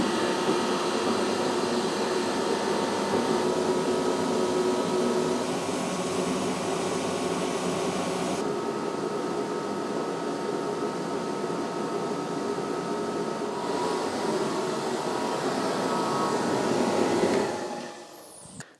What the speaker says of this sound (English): something loads of you suggested, a diesel heater